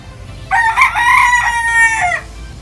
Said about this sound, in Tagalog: binaba ko na si Boston na uh, pullet natin para makita nyo